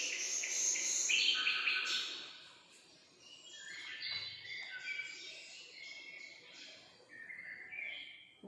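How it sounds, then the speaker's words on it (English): Birds chirp and twitter in a soft, layered chorus of high tweets and trills, some nearer and louder, others faint, with a low insect-like hum beneath and no talking. "Soft sound, okay, or chirping of birds. This is pleasant sound."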